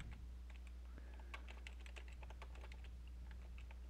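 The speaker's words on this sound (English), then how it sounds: "now I need to type in some sections for my student names" Quiet, steady tapping of a computer keyboard while names are typed into an Excel gradebook, irregular clusters of soft key clicks over a constant low electrical hum.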